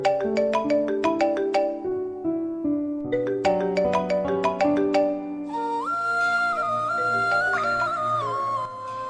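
Mobile phone ringtone, a loud, close melodic electronic tune of repeating chiming notes that plays continuously, shifting into a fuller, brighter section partway through, with no voices.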